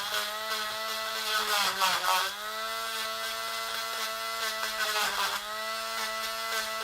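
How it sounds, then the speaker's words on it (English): A Dremel rotary tool whines at a high steady pitch as it shaves paint away during a repair, sagging briefly twice under load before climbing back up, with no talk over it. "When we've got our Dremel out, we can go ahead and shave that up a little bit."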